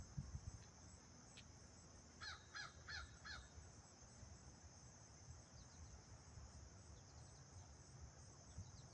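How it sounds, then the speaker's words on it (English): Big blackbirds perched in a tree give a few faint, quick caws in a short cluster, set against a steady backdrop of insect and cricket buzz outdoors in late summer. "whatever those big blackbirds are. There's a couple of them up in this tree"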